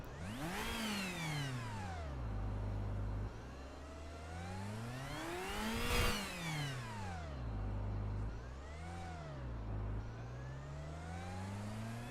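Turbocharged 488 V8 DTM race car engine in RaceRoom, revving up and down repeatedly in sweeping rises and falls, dropping to a low idle rumble between blips, loud and close with no talk.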